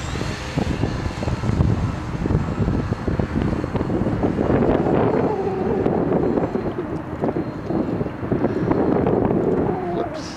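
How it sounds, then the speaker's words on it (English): Strong gusting wind buffets the microphone while a small RC trainer plane, an FMS Kemy, flies nearby, its motor whine rising and falling under the continuous rumbling roar, with no talking. "Yeah, really windy"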